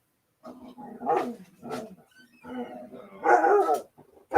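Dogs in a household bark and whimper in a string of short, close bursts with brief pauses, ending in a louder flurry of yips.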